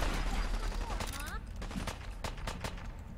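Rifle gunfire from the Fallout 4 video game: a few sharp shots crack out over busy game noise, with rapid bursts near the end, while a player talks over it.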